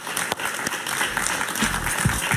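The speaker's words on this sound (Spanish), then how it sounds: "Un aplauso para Pablo Medina" A television studio audience on a Spanish-language talk show claps for guest Pablo Medina, a continuous moderate wash of applause that holds steady throughout.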